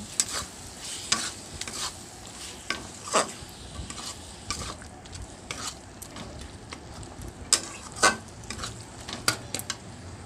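Capsicum pieces sauté in a pan, stirred with a metal spoon that scrapes and clinks at irregular intervals over a constant close sizzle; no speech.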